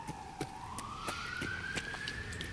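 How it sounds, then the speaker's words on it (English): An ambulance siren in the video game Fallout 4 wails alone at moderate distance, one long tone sliding slowly upward, with faint clicks scattered through it. "Yeah, that's ambulance."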